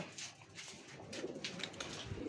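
Soft, low pigeon cooing repeats in the background, faint and somewhat distant, with light rustling and no talking.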